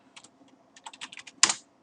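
Keys tapped on a computer keyboard to enter a trim command in AutoCAD: a quick burst of close, crisp clicks that ends in one louder stroke, with no voices.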